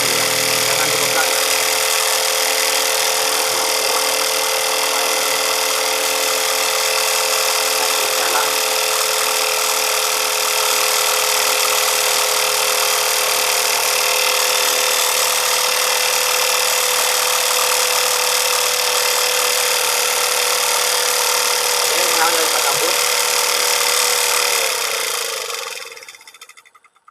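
Homemade free energy generator running with a loud, steady, dense mechanical whine and buzz, close and unbroken for about 25 seconds before it winds down and cuts off at the end.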